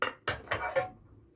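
A used, thick metal frying pan handled close by: a few sharp metallic clanks and rattles in quick succession, then a faint fading ring.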